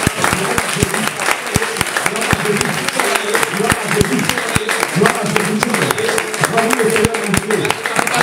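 Church crowd at an apostolic gathering in Togo applauding and cheering, with dense sustained clapping, sharp claps standing out, and voices singing and shouting throughout.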